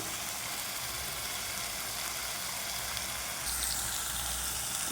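Spice paste with tomato for a mutton curry sautés in a pan, making a faint steady sizzle that grows slightly louder and fuller near the end, with no voice over it.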